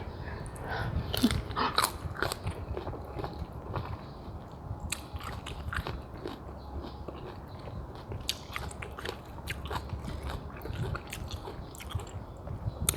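Someone eats mango with sweet fish sauce, making close, repeated crunchy bites and chewing with no talk.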